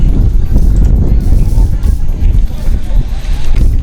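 Strong wind on Mandaragiri Hills near Bangalore buffets the microphone with a heavy, rumbling roar that surges and dips, with indistinct voices faintly beneath it.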